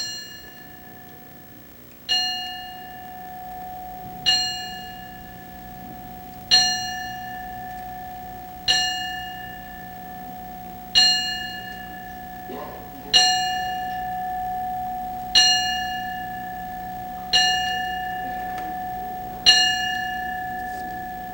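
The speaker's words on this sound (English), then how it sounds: "Cecilio Tito Petraja, will toll the bell for the final 10 count." A boxing timekeeper's bell tolls a ten count for the dead in a quiet arena: single clear strikes spaced about two seconds apart, each ringing out and decaying before the next, with no talking.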